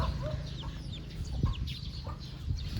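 Chickens and a rooster clucking on a rural Thai family homestead on a cold morning, several birds making scattered close calls over steady outdoor background noise.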